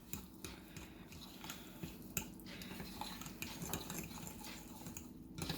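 A fork clicks and taps rapidly against a bowl, whisking a semolina and cottage cheese casserole mixture, a steady light scraping rhythm, quiet and close with no voices.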